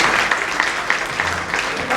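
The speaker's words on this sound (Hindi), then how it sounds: "इनके लिए जोरदार तालियां दो" Loud applause from an audience at a Hindi sales training seminar, dense sustained clapping with a few sharper claps standing out, continuous for two seconds.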